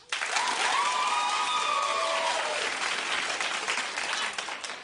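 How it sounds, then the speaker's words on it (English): Steady, dense studio audience applause at a daytime talk show, filling the whole stretch with some whoops and voices faintly mixed in. "clap if you think it's a great idea."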